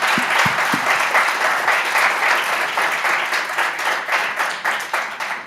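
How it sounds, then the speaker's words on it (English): Audience applause after a talk at a digital-week conference on AI and digitization, a dense steady wash of many hands clapping at close range, holding full strength for several seconds with a few sharp nearby claps at the start. "Big applause."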